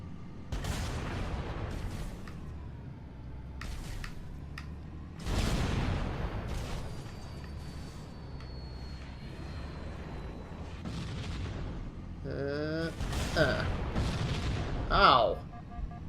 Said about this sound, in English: and then you shoot them with a 30-ton tank